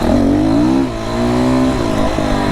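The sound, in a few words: FSE300R engine revving as throttle is twisted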